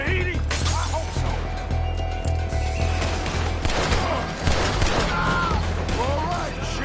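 Gunfire in Red Dead Redemption 2 during a street fight around a trolley, with shots cracking continuously over a low rumble and chaotic background noise.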